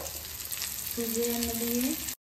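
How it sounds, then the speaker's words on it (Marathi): Fish marinated in Agri Koli masala, salt and lemon and coated in semolina fries in hot oil with a steady, close sizzle, while a short tonal hum sounds over it midway. "तर सर्व मच्छी मी अशीच फ्राय करून घेते पटकन"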